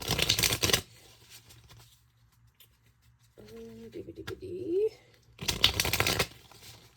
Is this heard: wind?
no